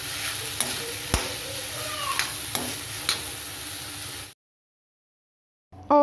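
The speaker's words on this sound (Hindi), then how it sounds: "जीरा और हरी मिर्च और तोरई डाल दूँगी" Cumin, green chili and ridge gourd frying in a pan, a steady close sizzle broken by a few sharp stirring clacks, cutting off abruptly to silence before a brief return at the end.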